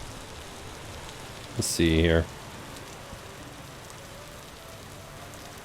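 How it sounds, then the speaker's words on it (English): Steady rain falling in the Vintage Story video game, a constant hiss running through the whole stretch, with a voice briefly speaking over it near the middle. "It started raining again."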